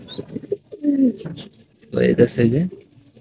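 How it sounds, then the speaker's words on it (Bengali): Domestic pigeons gathered close by, deep cooing calls in short bursts, with low background noise and no other voices. "এই যে আমাদের উড়ানো কবুতর গুলা, সবকটা কবুতর এখানে আসছে"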